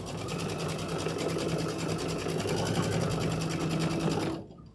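Domestic sewing machine stitching steadily at speed in a quilting room, a continuous even whirring hum that cuts off abruptly near the end.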